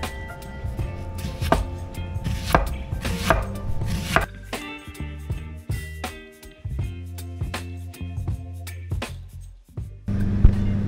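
A knife chops vegetables such as salad, tomatoes and onion on a board in a ship's galley, giving irregular sharp knocks, some in quick bursts, against a low engine hum.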